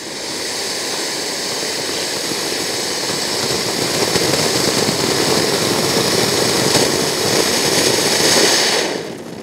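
Glittering flower firecracker bursting at Diwali, a steady dense crackling hiss with bright sparkling texture lasting about nine seconds before cutting off abruptly, loud and close with no talk.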